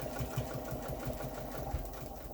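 A domestic sewing machine runs steadily during pantograph machine quilting, a quiet, even mechanical chatter of rapid needle strokes with a soft rhythmic thump, close by and alone.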